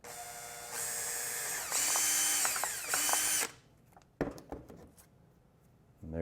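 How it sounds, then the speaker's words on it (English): Power drill boring holes through tape and a plastic holeshot template, three loud sustained whining bursts with brief pauses between, then quieter clicks and handling noises. "Now that we have our holes drilled"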